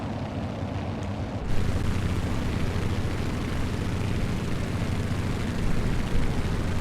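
A Grumman G-21AS Goose seaplane in Microsoft Flight Simulator drones steadily on approach to a lake landing, a loud, continuous broadband engine and propeller roar that holds unbroken throughout.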